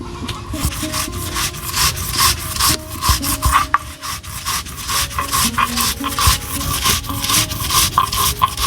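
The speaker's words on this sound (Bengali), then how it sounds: "এখন আমি সর্ষেটা বেটে নেব।" Mustard seeds being ground together with a couple of green chillies and salt, a steady rough scraping and rubbing rasp repeating in quick strokes, close and continuous throughout.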